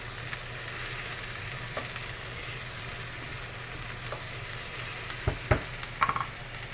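Pork frying in a pan, a steady close sizzle throughout with a few sharp clanks and scrapes of a utensil stirring near the end.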